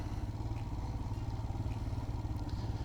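A Royal Enfield Himalayan motorcycle rumbles steadily over rocks on an off-road trail, with a continuous low engine drone and occasional light clatters and thumps.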